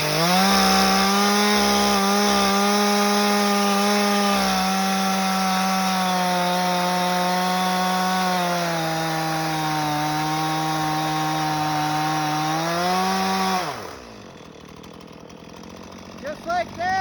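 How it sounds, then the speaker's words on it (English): A chainsaw with a sharp chain cuts rounds from a log pile, droning loudly and steadily up close, its pitch sagging slightly under load before the engine drops off near the end. "Just got my chainsaw here."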